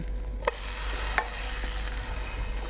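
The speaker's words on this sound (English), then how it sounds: "But I'm sugar side down now, and that's going to caramelize" Pineapple slices fry sugar side down in a hot pan, caramelizing with a soft, steady sizzle, punctuated by a couple of brief utensil clicks; quiet and close, with no talking.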